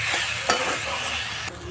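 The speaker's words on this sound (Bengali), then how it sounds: "1/2 চামচ গরম মশলা দিয়ে দিলাম, দিয়ে এটাকে নাড়াচাড়া করে নামিয়ে নেব" A spoon stirs ghee and garam masala through a banana-stem and soybean curry in a pan. A short, close burst of sizzling and scraping with a couple of sharper strokes, and no voices.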